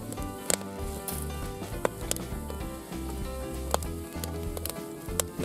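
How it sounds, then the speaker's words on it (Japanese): A foil-wrapped apple cooking in a pan over medium-to-low heat gives a steady soft sizzle and crackle with a constant hum, broken by a few sharp little pops and ticks. "この今包んだリンゴを焼いていきたいと思います"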